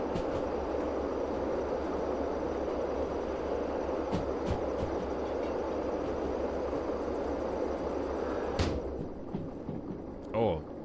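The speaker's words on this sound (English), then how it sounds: "Trains do be loud." Train running in a train-driving video game, a loud continuous rumbling roar with rattling that holds steady, then cuts to a quieter cabin near the end with a few clicks.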